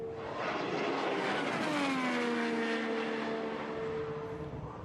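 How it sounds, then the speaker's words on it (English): An IndyCar engine at Indianapolis Motor Speedway during Indy 500 qualifying, a loud close high-pitched roar that swoops down in pitch as the car passes and the driver lifts off the throttle. "Another lift of the throttle."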